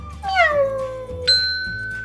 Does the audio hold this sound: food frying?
no